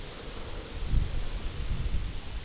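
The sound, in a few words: strong wind blowing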